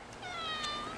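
A cat gives a single short, faint meow close by, against a quiet background.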